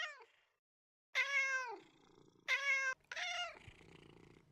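A pet cat's recorded meows play back in music software, a cut-off call followed after a pause by two long, clear, drawn-out meows and a shorter one, each sounding alone over faint background noise.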